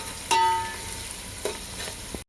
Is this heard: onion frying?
yes